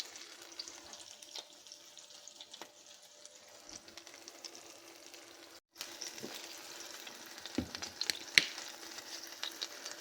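Thin mandoline-cut onion slices placed on a hot grill for a ranchero melt, a faint, steady sizzle with a brief gap, then a few clicks and knocks as cooking continues.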